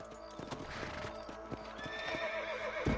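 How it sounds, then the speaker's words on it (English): A horse in the Red Dead Redemption video game clip-clops in a quick rhythmic gait and lets out a whinny near the end, fairly faint against the game's ambient sound. "Eu só queria sair do cavalo."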